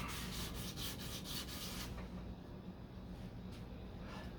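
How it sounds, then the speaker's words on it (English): Hand sanding of filler primer on the deck lid of a 1969 C3 Corvette, a steady close-up rubbing and scraping of sandpaper with quick repeated strokes early on, then a lighter continuous rasp. "then come in with your sandpaper and flatten it"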